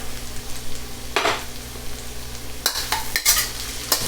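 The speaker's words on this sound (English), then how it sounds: "Next, let's get the onions in there." Onions stir-frying in a hot pan on medium-high heat for steak and shrimp yaki udon, a steady close sizzle broken by bursts of scraping and tossing.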